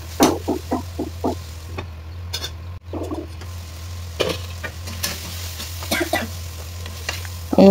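Tomato, green chili and cashew frying together in a pan, a soft continuous sizzle with repeated scraping and clinking stirs from a spatula, close by, under a low steady hum, with no talk.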